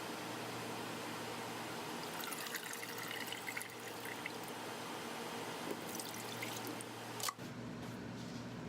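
Water drains from a SproutBox sprouting kit into a sink, a faint steady trickle with soft drips and a few small knocks of the plastic box.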